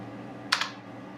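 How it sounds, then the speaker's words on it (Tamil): Two quick clicks of computer keyboard keys, close and crisp, over a low steady background hum with no talking. "க்ரூட் ஆயில் இன்வென்ட்ரி டேட்டா அப்படி கூகுளில் டைப் பண்ணீங்க அப்படின்னா"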